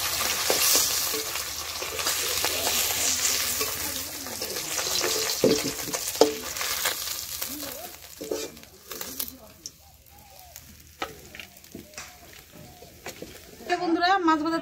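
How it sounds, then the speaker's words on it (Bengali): Fish heads fry in oil with a strong crackling sizzle that gradually subsides, while a person talks over the frying. "বন্ধুরা মাছের মাথাগুলো লাল লাল করে ভেজে নিয়েছি"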